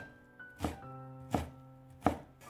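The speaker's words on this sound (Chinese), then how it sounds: "然后放到案板上，" Three sharp knife chops into a pumpkin on a wooden cutting board, evenly spaced about two-thirds of a second apart, close and crisp against a quiet kitchen background.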